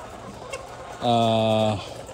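A chicken gives a single drawn-out, tonal call lasting under a second. It stands out over steady background noise at feeding time in the rainy season on a farm.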